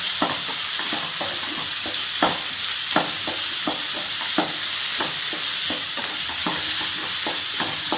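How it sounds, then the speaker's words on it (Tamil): Chopped onions sauté in a pan until golden for prawn masala, a dense, constant sizzle with rhythmic spatula scrapes and stirs repeating every fraction of a second, loud and close. "அதனால் நல்லா பொன்னிறமாக வதக்கிக்கணும்."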